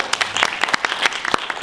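Audience applause for a panel at an environmental justice symposium, a dense steady round of clapping from a room crowd, close and fairly loud throughout.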